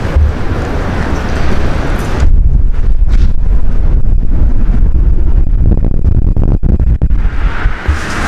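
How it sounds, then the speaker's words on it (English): Strong wind buffets an outdoor microphone near a truck, a loud continuous roar with deep rumbling gusts that ease briefly toward the end. "It is really windy today."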